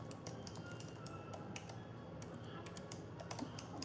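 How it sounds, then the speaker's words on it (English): Quiet, quick clicking of keys on a computer keyboard in a kitchen, a rapid irregular patter of taps over low room noise. "Typing."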